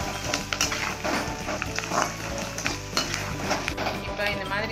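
Onions and raw mango sauté in a hot pan, a close sizzle broken up by repeated scraping and clinking stir strokes against the metal, with no talk.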